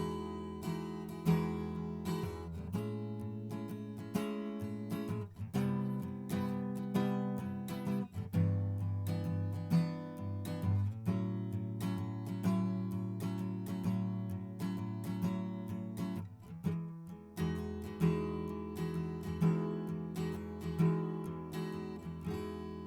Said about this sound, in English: the condenser is the same acoustic guitar, same part at the same distance, but recorded with a large diaphragm condenser, specifically a Rode NT2